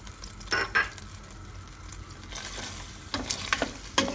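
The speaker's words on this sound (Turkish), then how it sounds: "şu şekilde bir karıştırıyorum" Chopped onions, garlic and julienned peppers sizzle steadily in a pan while a utensil stirs, with a few short scraping clatters against the metal.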